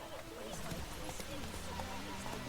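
Horse hooves clip-clop in The Witcher 3, a quick run of rhythmic thuds set within dense, continuous game sound.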